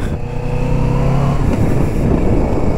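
A loud Kawasaki Vulcan S motorcycle engine revs steadily, its pitch climbing then holding in a continuous roar, close by with no voices.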